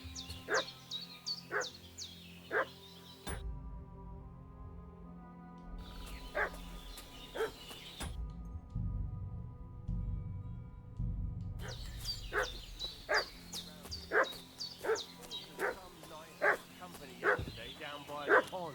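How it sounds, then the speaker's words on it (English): A dog in Kingdom Come: Deliverance II barks repeatedly in sharp bursts from close by, pausing for stretches, over a low rumbling game ambience with voices occasionally present. "What's that dog making such a fuss about?"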